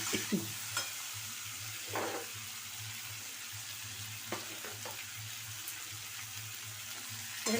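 Spices cooking with salt and turmeric in a hot pan: a continuous low sizzle with occasional stirring scrapes, a faint hum underneath, and no talking.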